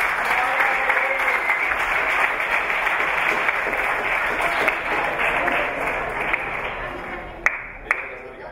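Sustained, dense applause from an audience at a youth champions awards ceremony in Valencia, steady and loud for several seconds before a couple of sharp louder claps near the end.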